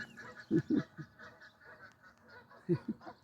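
Canada geese honk in short bursts, a pair of loud calls, a softer one, then two more later, over a quiet outdoor background at a lake.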